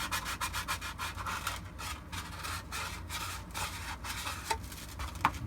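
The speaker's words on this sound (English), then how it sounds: "just keep sanding it until you get it down to a spot that you think it's smooth enough" Rapid, rhythmic rasping strokes of sandpaper rubbing over a hard plastic armor piece, close up and steady, with brief pauses between bursts and no voices.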